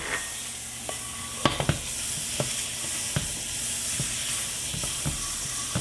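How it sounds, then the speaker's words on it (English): Butter sizzles and hisses steadily in a hot pan before steak is seared, with several sharp clicks and taps of a utensil against the pan scattered over the sizzle. "So I've got my pan hot. I'm going to drop my butter."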